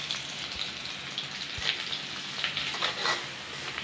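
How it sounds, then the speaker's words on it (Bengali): Onion paste and spices frying in a pan for mustard hilsa, a soft continuous sizzle with occasional scraping stir strokes, fairly close and quiet. "এখন আমি মশলাগুলো ভালো করে কষিয়ে নিচ্ছি।"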